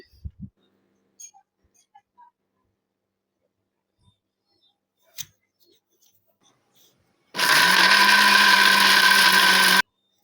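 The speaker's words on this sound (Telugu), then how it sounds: "కొంచెం వాటర్ వేసి మిక్సీ కొట్టేసుకుందాం" A kitchen mixer grinder blends coconut chutney with a little water, running loud and steady for a few seconds near the end after some quiet clicks and handling noises.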